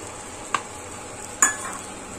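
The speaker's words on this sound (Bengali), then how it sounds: "এরপর জিনিসটাকে খুব ভালো করে ফ্রাই করে যেতে হবে।" Bread slices coated with a thin layer of egg frying in a pan, giving a steady soft sizzle with two sharp utensil taps on the pan.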